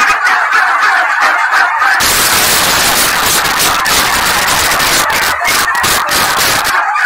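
Turkeys gobbling continuously on a turkey farm, a loud, dense flock chorus of overlapping gobbles with a steady noisy background throughout.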